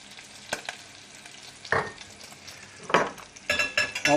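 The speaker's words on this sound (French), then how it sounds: "on va mettre un petit peu d'huile d'olive, pas trop, et nous allons faire revenir les échalotes" Shallots sizzle in a little olive oil in a pan, with bursts of frying and stirring at intervals and quieter sizzling in between, close by and with no talk.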